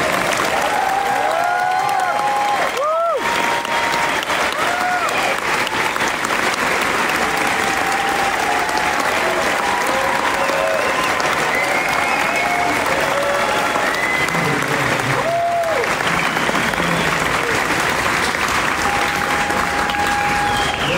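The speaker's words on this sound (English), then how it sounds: "let's give Bob Lazar a hand" An audience at a Bob Lazar Q&A event gives sustained, loud applause for the guest, dense clapping filling the room throughout with a few scattered cheers.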